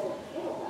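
A spotted dove from Phu Yen coos in a rapid, steady run of soft, hollow notes, close and clear with no voices.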